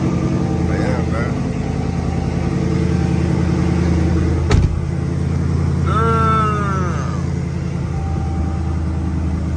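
Dodge Scat Pack car engine cranking and running, a steady loud low rumble throughout with a sharp click midway, while someone talks over it.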